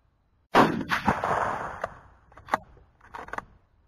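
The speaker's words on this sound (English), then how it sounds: "Now shooting the Ruger American 22-250 from 100 yards." A Ruger American .22-250 rifle fires once at a range target 100 yards away, a sharp loud crack followed by a rolling echo and a few fainter clicks and clatters as it fades.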